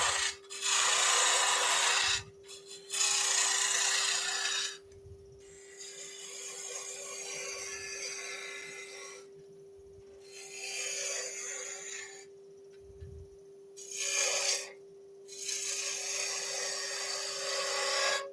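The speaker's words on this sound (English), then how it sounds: "Now I'm going to rough him out with a bowl gouge." A bowl gouge roughs out a wooden snowman blank on a spinning lathe, making loud scraping and tearing bursts of several seconds each, separated by pauses, over a constant motor hum, no voices.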